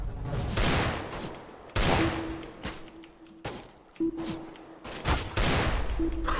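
Gunfire from Counter-Strike: Global Offensive comes in loud, sharp volleys, several rapid bursts of shots separated by short pauses, each echoing out briefly before the next, with no talking.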